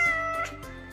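A cat lets out a single short meow, moderately clear over gentle background music.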